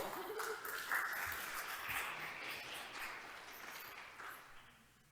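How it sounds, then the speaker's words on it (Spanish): Classroom applause for a student after an oratory exercise, a modest round of clapping that swells briefly and then tapers off toward the end. "un aplauso"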